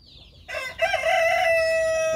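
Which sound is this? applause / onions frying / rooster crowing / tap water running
rooster crowing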